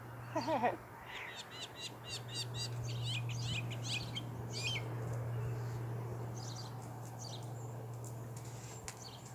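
A bird squawks and chirps in scattered bursts outdoors, fairly distant over a steady low hum and background ambience.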